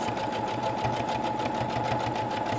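A sewing machine stitches knit fabric in a steady, fast mechanical whir with a regular rapid clatter, close and continuous with no talking.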